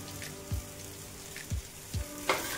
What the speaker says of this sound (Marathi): आणि शिजून घेतलेला भात टाकून घ्यायचा इथं पूर्ण